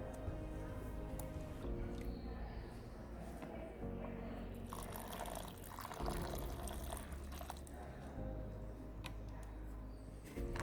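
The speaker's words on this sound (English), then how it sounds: "Now I am pour some soil and pour water in it." Water trickles steadily and quietly into a polythene bag filled with soil for planting a seed, faint and continuous against soft background tones.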